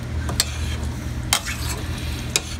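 Winter melon and minced pork stirred in a pan over a soft steady sizzle, with three distinct scraping strokes of a spoon against the pan spaced about a second apart.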